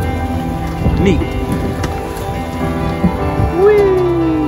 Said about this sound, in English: Looks like it's raining out there